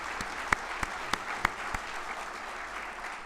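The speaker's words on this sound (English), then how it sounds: "I think they definitely deserve a round of applause there" Applause from an audience at the Heritage Angel Awards ceremony in Northern Ireland, a steady wash of many hands clapping at a moderate distance, with a few sharper nearby claps standing out.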